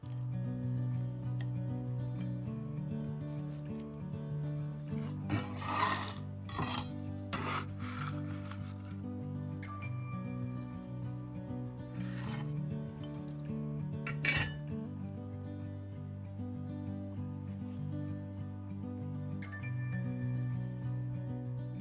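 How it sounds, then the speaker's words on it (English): Cracked acorns are rubbed and picked apart to free the nuts from their shells, giving scattered bursts of dry rasping and rustling over a steady tonal background, busiest in the middle stretch. "Once you've cracked a bunch of acorns, you can start separating the nut from the shells."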